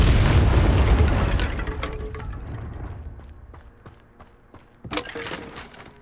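Fiery spell explosions from a video game, a loud dense blast roaring for over a second, decaying into rumbling crackle with scattered pops, then a sharp fresh burst near the end.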